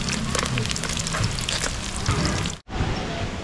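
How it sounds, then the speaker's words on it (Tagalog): Garlic and onion sautéing in cooking oil, a steady close crackling sizzle that runs continuously with a brief dropout near the end. "Yan guys, magigisa na tayo ng bawang at sibuyas."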